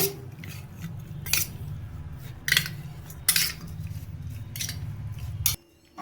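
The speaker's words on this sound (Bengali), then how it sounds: "আমি চামচ দিয়ে নুন আর হলুদটা মাখিয়ে নেব।" A metal spoon mixing salt and turmeric into raw prawns in a bowl, giving several distinct clinks and scrapes against the dish at irregular intervals over a low background hum.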